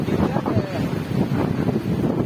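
Wind blows steadily outdoors, buffeting the microphone with a continuous low rumble, and an indistinct voice can be heard faintly beneath the gusts.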